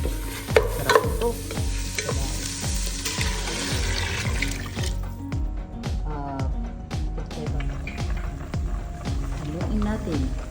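A pot of misua and ground beef soup is stirred, with repeated scraping strokes in a steady rhythm under a sizzling, bubbling background, close and fairly loud while a person talks over it.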